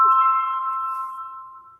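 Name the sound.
mobile phone ringing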